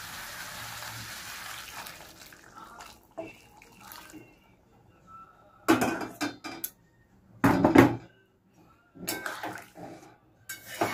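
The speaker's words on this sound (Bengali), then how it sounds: "একটু গরম জল দেবো।" Hot water poured from a vessel into a pan of Bengali bhola fish curry with fried spices, giving a few short bursts of splashing and pouring with clinks of the pot between quieter pauses.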